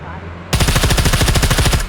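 Rapid automatic gunfire from the video game SCUM erupts suddenly after a quiet moment, a loud, close burst of evenly spaced shots lasting over a second.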